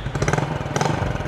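Motorcycle fitted with a Yoshimura full exhaust, idling and blipping: a close, brief burst of throaty pulsing exhaust note with two quick rises in engine speed, heard alone.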